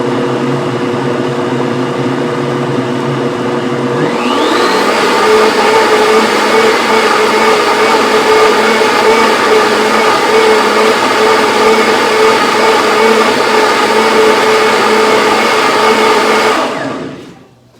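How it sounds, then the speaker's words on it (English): A kitchen blender whirs through dinner ingredients, first at a lower drone, then spinning up to a louder steady roar before cutting off at the end. "You just keep blending it until you feel like everything is incorporated."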